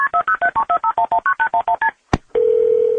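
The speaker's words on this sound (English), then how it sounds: "So this 17-year-old grabbed her phone and dialed 911." A phone keypad beeps out a 911 emergency call in a rapid run of about a dozen crisp tones, followed by a short burst and then a steady continuous tone, with no speech.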